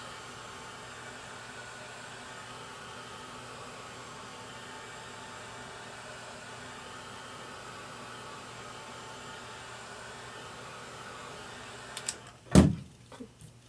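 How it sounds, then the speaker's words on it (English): A heat tool heat-setting embossed ink on a Christmas tag, a steady, fairly quiet blowing whir that runs continuously before a brief louder clunk near the end. "I'm just going to heat set that for a second."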